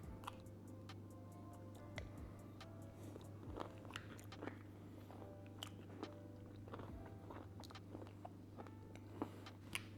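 Someone eating chia pudding topped with crunchy hazelnuts and dark chocolate: soft, close chewing with several sharp crunches and bites scattered over a steady low hum, no talking.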